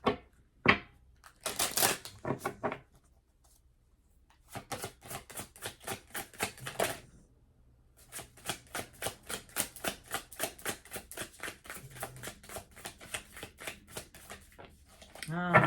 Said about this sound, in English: I was thinking as I was shuffling, like I want to go on YouTube and like try to find out like how to shuffle like a Vegas card dealer